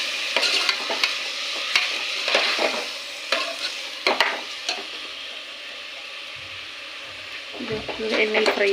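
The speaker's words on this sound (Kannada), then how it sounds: "ಎಣ್ಣೆಲಿ ಫ್ರೈ ಆಗಲಿ." Washed rice fried in oil in a pan, stirred with repeated scraping strokes over a continuous close sizzle, with a faint voice briefly near the end.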